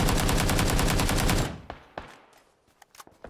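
In the video game PUBG, a rapid automatic-weapon burst rattles loudly for about a second and a half. A few scattered, fainter shots and clicks follow in near silence.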